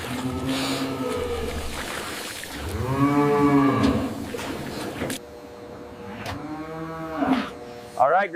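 Dairy cows at a large farm mooing in long, deep, rising and falling calls, several overlapping and close, with a person speaking amid the lowing and steady background noise.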